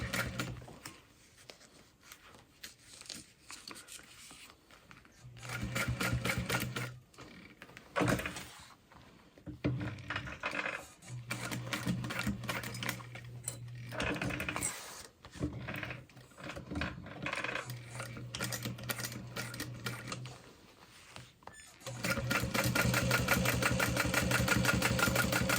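A sewing machine stitches a seam on a fabric bag, running in repeated bursts of rapid mechanical whirring separated by short pauses, close and fairly quiet.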